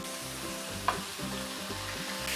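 Two more steaks go into a hot frying pan and sizzle steadily up close, with a brief clatter partway through and a low hum underneath.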